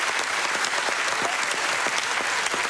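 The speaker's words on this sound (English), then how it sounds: "Let's have a round of applause" Studio audience on a comedy panel quiz show giving sustained, even applause, a full steady wash of clapping with no break from start to finish.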